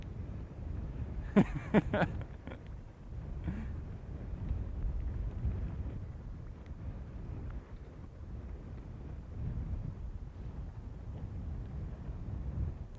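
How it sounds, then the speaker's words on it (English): Wind at a SpaceX Falcon 9 launch viewing site on Florida's Space Coast buffets the microphone in a constant low rumble, with a brief burst of rattling knocks early on, then an even, muffled roar throughout. "Well, yeah, definitely windy out here."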